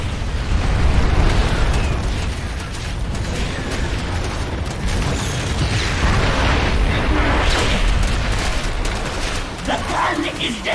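A cannon is destroyed in StarCraft II amid continuous loud rumbling explosions and blasts, with battle noise throughout.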